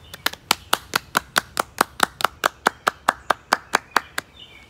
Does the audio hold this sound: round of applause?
yes